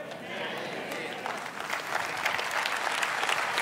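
A church congregation claps in steady, sustained applause that fills the room evenly, with a voice speaking over it.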